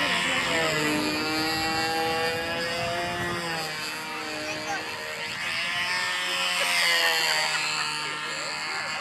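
A buzzing control-line model airplane engine flies aerobatic maneuvers at an air show, its whining tone rising and falling in pitch as the plane circles, while someone commentates over it.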